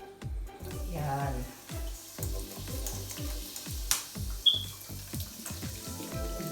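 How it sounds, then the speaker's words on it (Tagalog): Sprite is poured into a hot frying pan for pork cooked in Sprite. The sizzle and bubbling run under a steady, rhythmic series of low scraping or knocking thuds, loud and close. "Ito po yung Sprite po. Ilalagay po natin dito sa kawali."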